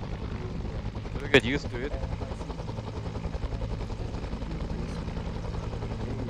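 Helicopter rotor drone in a military video game, a steady low thrum running throughout beneath people talking, with a brief sharp spike early on.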